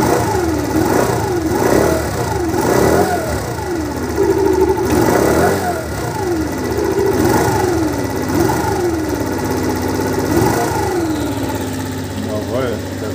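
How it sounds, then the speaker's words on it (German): Carburetted engine revved repeatedly as the throttle is opened during an accelerator pump test, with rising and falling howls of revs in a steady loud run; someone talks over it. "Und jetzt Gas geben."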